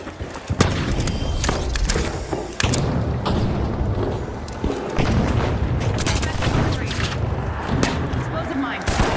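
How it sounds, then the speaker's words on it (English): Flashbang grenades and other explosive blasts going off in a first-person shooter video game: a dense run of loud, sharp booms and thuds, with one heavy blast standing out against the continuous chaotic game noise. "Using a flashbang."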